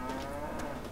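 A single short, low cow moo from a mutated cow in the video game Fallout 3, clear and close, with a slightly synthetic tone.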